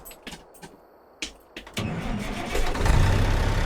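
A heavy truck engine in American Truck Simulator starts and revs. A few sharp clicks come first, then a low rumble builds and grows steadily louder toward the end.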